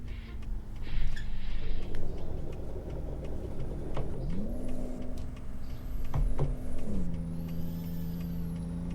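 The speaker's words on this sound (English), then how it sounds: "You can hear the turbo on it too, winding up." In Euro Truck Simulator 2, a truck engine drones steadily while its turbo winds up in a rising whistle, with air-brake hisses and revs shifting pitch, fairly loud and close.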